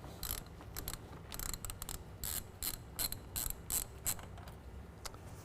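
A ratchet loosens the 10 mm nut on the negative battery terminal of a 2014 Ram with a 5.7 V8, giving close bursts of rapid clicking with short pauses between strokes.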